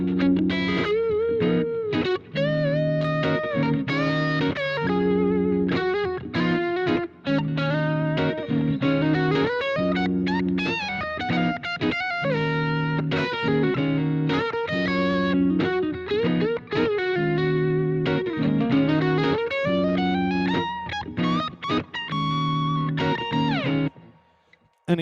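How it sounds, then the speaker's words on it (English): A looped electric guitar part runs continuously while a distorted electric guitar lead plays over it, both loud and sustained with bending melodic lines, fed through effects pedals, ending abruptly near the close. "if I turn on distortion, the loop stays exactly the same, and I can play a distorted lead on top of it."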